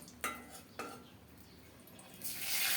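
Quiet sizzle of cumin seeds dropped into a little hot oil in a pan, with two light utensil clinks early on and the frying hiss swelling louder toward the end.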